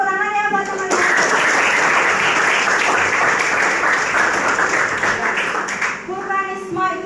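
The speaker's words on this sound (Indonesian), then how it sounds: "Ya, tepuk tangan ya buat teman-teman." Students in an Indonesian classroom break into lively clapping for their classmates during a lesson on volcanism. The applause is loud and sustained, framed by a teacher speaking just before and after.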